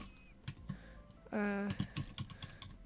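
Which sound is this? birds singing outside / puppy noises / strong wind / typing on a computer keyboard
typing on a computer keyboard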